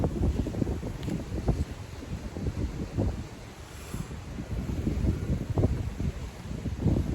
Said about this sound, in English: Let me let the wind pass.